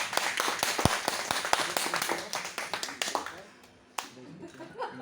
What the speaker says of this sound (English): a big round of applause for the first 3 participants